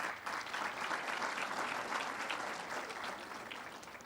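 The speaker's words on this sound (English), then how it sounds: "you can clap for her." Steady, dense applause from a graduation ceremony audience honoring a graduate, a broad wash of clapping that holds at full strength for several seconds before easing slightly.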